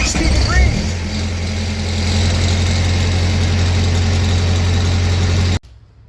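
A reefer trailer's refrigeration unit engine, started after sitting for 10 days, fires up with a brief rising rev, then settles into a loud, steady, close diesel drone with a vibrating hum until it cuts off abruptly near the end.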